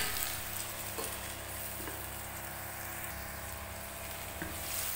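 Potato and bitter melon fry in a covered pan with a steady, even sizzle, a soft hiss that holds at a constant low level with faint crackles and no talking.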